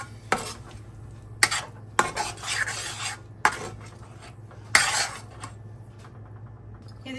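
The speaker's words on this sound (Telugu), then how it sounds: "ఇప్పుడైతే ఈ పేస్ట్ మనం గ్రైండ్ చేసుకున్న పేస్ట్ అయితే వేసేసుకొని ఫ్రై చేసుకోవాలి" A ground spice paste frying in a pan, stirred and scraped with a utensil in several short, close bursts over a low steady hum, with quieter sizzling between strokes.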